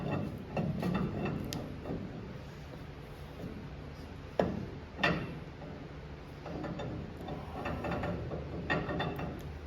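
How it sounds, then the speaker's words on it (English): A truck axle is slid in and keyed into the differential, making quiet metallic clicks, scrapes and a couple of sharper knocks against a faint background. "Get your axle, slide her in there. You got to key it into the differential."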